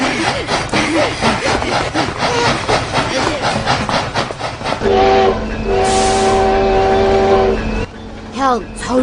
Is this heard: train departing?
yes